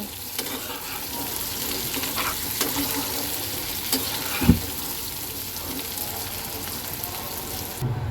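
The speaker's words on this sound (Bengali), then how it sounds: "আলুগুলো আমি একটু সুন্দর করে ভেজে নেই" Potatoes fry in hot oil in a pan, giving a steady close sizzle with a few faint clinks and bumps, with no voices.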